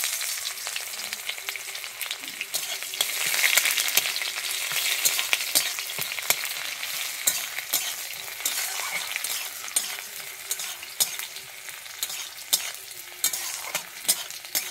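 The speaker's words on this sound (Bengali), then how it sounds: "আমি দিয়ে দিচ্ছি কুচানো একটা পেঁয়াজ" Chopped onion frying in hot oil with panch phoron and dried red chilli for a Bengali pui shaak dish, a steady close sizzle broken by frequent scraping and stirring strokes in the pan.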